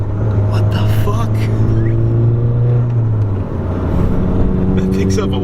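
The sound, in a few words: modified VW GTI MK6 engine revving while accelerating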